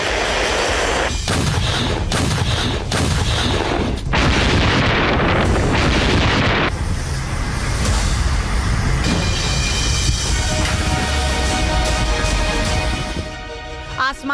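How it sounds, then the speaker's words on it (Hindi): Heavy artillery fire and explosions from the war in Ukraine boom in dense, loud succession, with rumbling blasts and crackling impacts layered continuously and a mechanical rattle late on. "दुश्मन की गरजती तोपों ने पूरे यूक्रेन को तबाह कर दिया।"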